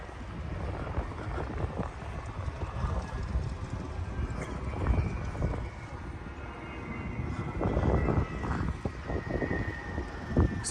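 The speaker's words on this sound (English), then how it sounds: "It's a business jet." Aircraft engine noise rumbles steadily at the Oshkosh airshow, with a business jet nearby amid broad outdoor background noise and faint voices.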